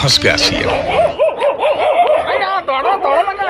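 Several dogs barking and yipping in quick repeated bursts, close by, with a person's voice mixed in at the start.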